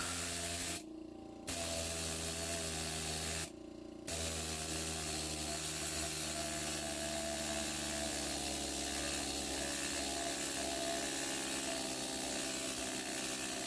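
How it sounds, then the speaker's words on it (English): A needle scaler chatters in a dense, steady rattling buzz as it knocks scale off a wet metal piece, running loud and continuous with two brief pauses early on. "The needle scaler makes quick work of the deeper pockets of scale."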